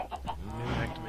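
Chickens in modded Minecraft clucking in a short burst of quick, faint bird calls, with a soft low rumble underneath.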